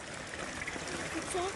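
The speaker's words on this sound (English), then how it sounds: "Found a waterfall." A small waterfall along the Ingleton trail trickles and splashes faintly in the background, a soft steady watery hiss with bits of light outdoor sound over it.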